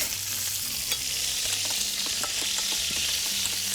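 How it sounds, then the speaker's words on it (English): Pink salmon fillets fry in a pan with a steady, close sizzle and crackle, with brief clinks and scrapes of a utensil moving the fish; no one speaks. "I'm going to flip these salmon over and see how they are."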